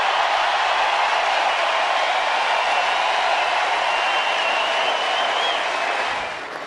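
Ballpark crowd at a Cubs–Cardinals baseball game applauding a curtain call, a steady, dense wash of clapping and crowd noise that holds loud throughout and eases slightly at the very end.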